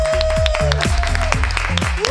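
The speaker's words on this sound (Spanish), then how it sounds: "un aplausazo para Carolina Iglesias y Silvia Abril" Studio audience applause on a Spanish television variety show, a dense steady wash of clapping and cheering lasting about two seconds, with voices rising over it.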